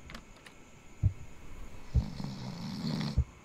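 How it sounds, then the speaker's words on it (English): A video game character in the horror game Poop Killer 5 snores, with rough, rhythmic snores repeating over a low hum, each followed by a soft thump. "I'm in a room with a motherfucker that snore."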